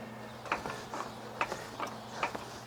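Under a Ford C-Max, a car jack is shifted and a jack stand set against the rear cross member, producing faint, rhythmic metallic clicks and ratcheting taps at roughly half-second intervals over a low background hum.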